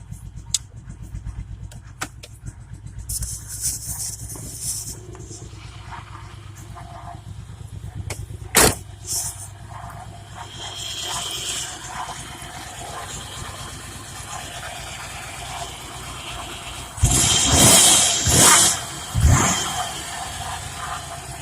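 A car engine, low on fuel but running smoothly, idles and revs as the vehicle backs up, with a low steady rumble, scattered knocks and a louder surge of engine noise near the end.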